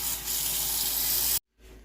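Running water hisses steadily as collard greens are washed in a kitchen sink. The spray is close and constant, then cuts off abruptly and briefly before resuming faintly.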